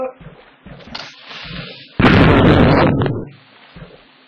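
A Creeper explodes in Minecraft as a sudden loud blast that roars for about a second before fading, with someone speaking French before and after it.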